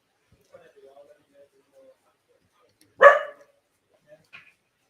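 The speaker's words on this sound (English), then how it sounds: "Sorry about the dogs." A single loud dog bark rings out near the middle of a koi auction broadcast, with faint voices and small noises around it and a softer yelp shortly after.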